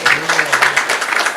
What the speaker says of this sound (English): Big round of applause for Prabhu